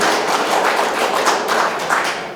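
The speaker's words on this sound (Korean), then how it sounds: "여러분 박수 부탁드립니다" Steady applause from a seated audience at a Korean political talk show welcoming a new policy advisory chief, dense, even clapping that holds at full strength throughout with no voices over it.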